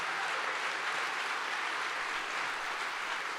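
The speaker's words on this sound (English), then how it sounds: "that's premature applause" Premature audience applause breaks out at a conference talk, a steady broadband wash of many hands clapping together, loud and continuous for the whole stretch with no voices over it.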